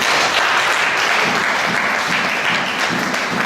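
A church congregation applauds, dense steady clapping from many hands filling the room throughout, with a faint voice beneath.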